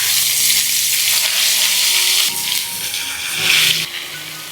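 Chicken pieces coated with wheat flour deep-frying in hot oil, a loud continuous bubbling sizzle with brief swells as the pieces are moved.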